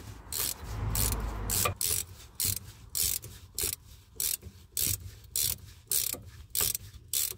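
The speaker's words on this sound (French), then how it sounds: "vous pouvez resserrer votre vis" A hand ratchet tightens the mounting screw of a rear ABS sensor on a Ford Probe / MX-6, giving about a dozen rapid clicking bursts in a steady rhythm, close and clear, after a brief low rumble.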